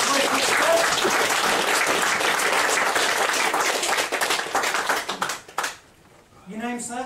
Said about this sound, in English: Give this gentleman a round of applause.